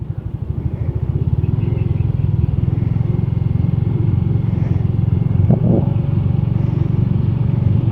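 Motorcycle engine rumbling steadily as it crosses a temporary hanging bridge between Quezon province and Batangas, with a loud, continuous low drone and a few faint clanks from the bridge deck.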